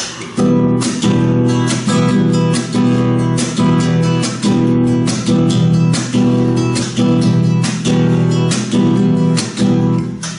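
Steady rhythmic guitar strumming with repeated thumb downstrokes in 4/4, loud and close, played alone in an even pattern throughout.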